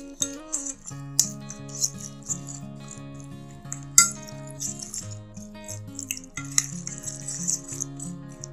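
A spoon clinks and scrapes while mixing spices in a bowl for grilled chicken, giving light scattered taps over soft background music.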